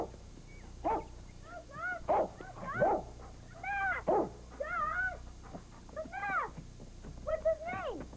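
A dog barks and yips in a steady run of short bursts indoors, with a cat-like whine mixed in, all close and fairly loud against a quiet room.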